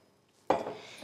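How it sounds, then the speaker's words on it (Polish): A spoonful of ghee dropped into a hot frying pan: after near silence, a sudden clink and soft sizzling burst that settles into a quieter hiss, with a second small tap at the end. "Na jedną z nich nakładam mniej więcej łyżkę masła klarowanego, masła ghee, które świetnie nadaje się do smażenia."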